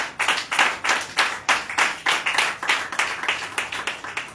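A church congregation claps together in a steady, rhythmic beat, the strokes sharp and regular over several seconds with no talking.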